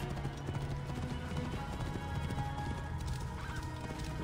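Rhythmic clip-clop of a horse's hooves runs throughout over a busy Assassin's Creed Origins soundtrack, with a brief whinny and background music tones.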